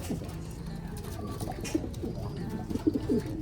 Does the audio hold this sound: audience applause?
no